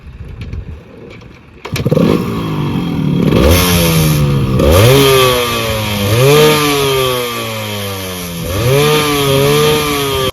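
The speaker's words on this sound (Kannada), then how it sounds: "ವಿಡಿಯೋ ಎಂಡ್ ಮಾಡೋಕ್ಕಿಂತ ಮುಂಚೆ ಎಕ್ಸಾಸ್ಟ್ ನೋಟ್ ಕೇಳಿಸ್ಕೊಳ್ಳಿ" A Yamaha RX 135 two-stroke motorcycle revs up close after a sharp start, its loud buzzy exhaust note rising and falling in repeated throttle blips, with no talk over it.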